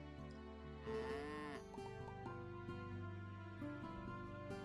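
Cows in the farming video game Pumpkin Days moo several times, with a long, loud, pitch-bending call up front and shorter moos following, set over steady game music.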